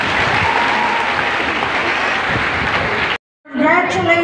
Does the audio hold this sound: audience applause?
yes